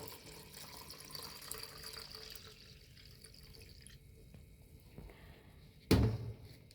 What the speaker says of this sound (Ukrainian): І сюди я додаю пів літри води.